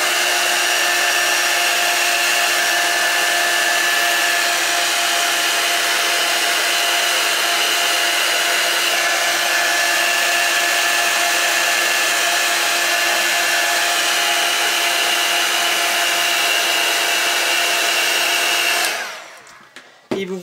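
A heat dryer blows steadily and loudly for the full stretch while drying Distress Stain colours on a craft piece, then switches off at the end.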